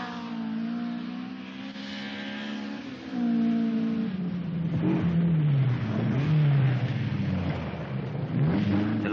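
A highly modified Datsun 1600 rally car from a 1979 Australian rally revs hard, its engine note climbing, dropping and surging again through gear changes, loud and close with no talk.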